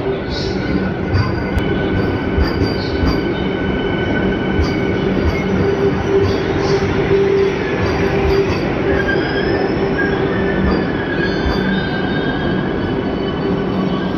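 A Vande Bharat train rolls in with a loud, steady rumble and high-pitched wheel squeals, with faint voices in the background.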